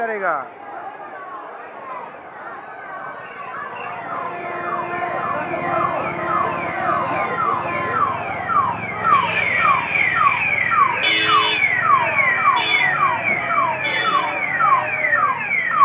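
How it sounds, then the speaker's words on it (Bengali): An ambulance siren wails repeatedly, its rising and falling sweeps growing louder as it passes through a dense pilgrim crowd at the Tarakeswar Shravan Monday yatra, over a murmur of many voices. "অ্যাম্বুলেন্সটাকে ছেড়ে দিল"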